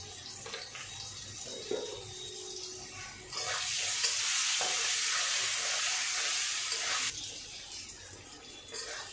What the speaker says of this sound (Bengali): এই তেলে আমি আলুগুলো ভেজে নেব